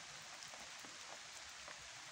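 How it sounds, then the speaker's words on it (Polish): Steady rain falls outdoors after a night of heavy downpour, a continuous soft hiss with scattered drops tapping on surfaces, fairly faint and unbroken, with no voices. "No i teraz się znowu rozpadało."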